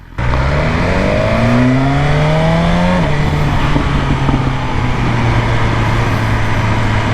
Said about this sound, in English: Pops and crackles on the exhaust on decelerating on Dynamic Pro.